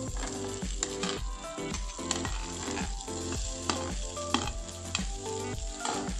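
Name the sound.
potatoes, cauliflower and peas frying and stirred in pan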